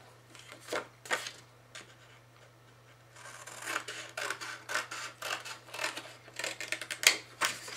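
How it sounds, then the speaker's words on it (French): Scissors cutting paper card for scrapbooking: quiet, irregular snipping and rustling, sparse at first, then a denser run of close crisp cuts and paper handling. "Ensuite on prend le ciseau. Ça ira plus vite."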